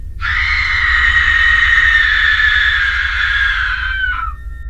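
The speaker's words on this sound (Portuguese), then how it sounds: "logo em seguida ouvi um grito aterrorizante" A long, sustained high-pitched scream held for about four seconds, loud and close, trailing off at the end over a low background rumble.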